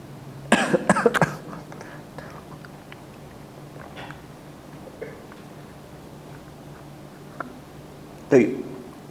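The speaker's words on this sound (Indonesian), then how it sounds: "Masih batuk." A man coughs in a short cluster of harsh bursts near the start and again once near the end, with quiet room sound and faint clicks between.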